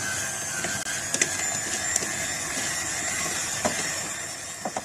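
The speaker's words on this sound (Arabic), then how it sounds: "شايفين انا فضلت اضرب في السمنه" An electric mixer beats ghee for ghorayeba cookies, a steady continuous whir with high tonal hum, punctuated by a few faint clicks and taps of the beaters against the bowl; no one speaks.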